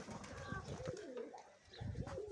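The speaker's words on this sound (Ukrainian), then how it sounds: "Обичний Ніколаївський голуб." A common Mykolaiv pigeon, a light-coloured white-tailed bird, coos in soft low rolling phrases close by, with steady background noise throughout.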